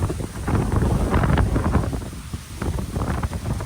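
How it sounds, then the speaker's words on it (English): Strong gusting wind buffeting the microphone outdoors, a loud, rough roar that rises and falls in surges with no voices. "Oh my gosh, it's so windy. It's so windy."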